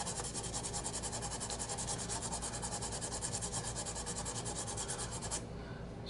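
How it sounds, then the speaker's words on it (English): A cracked Dunhill 305 briar pipe being sanded by hand with sandpaper wrapped on a backing paddle, a steady rhythmic rasping rub with quick regular strokes that stops near the end, leaving a faint hum; no speech. "I will wrap the sandpaper around this"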